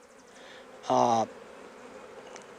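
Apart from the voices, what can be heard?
honey bees buzzing while making nucs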